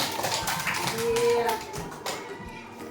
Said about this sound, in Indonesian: Ya tepuk tangan untuk kelompok beringin.